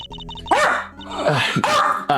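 A dog gives a few short, sharp barks up close, mixed in with people talking over and around them.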